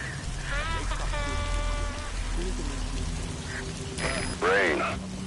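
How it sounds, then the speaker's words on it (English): Rain falls steadily in Metal Gear Solid V, a constant hiss beneath game interface chirps, beeps and mechanical clicks, with brief electronic tones standing out. "The sound of rainfall should help to mask your footsteps."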